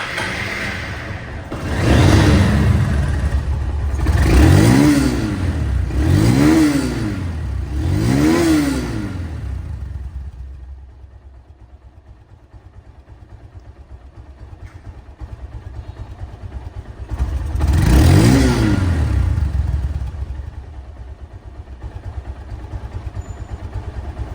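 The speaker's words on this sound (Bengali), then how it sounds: "এই বাইকটির সাউন্ড কোয়ালিটি শোরুম কন্ডিশন" A second-hand Honda CBS Hornet motorcycle with its original engine revs hard four times in quick succession, drops back to a low steady idle, then gives one more loud rev near the end, with no talking.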